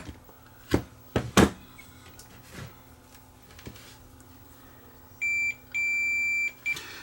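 A multimeter's continuity beep sounds twice during a repair, one short tone followed by a longer steady one, high-pitched and clear after a few knocks and clicks of handling the probes.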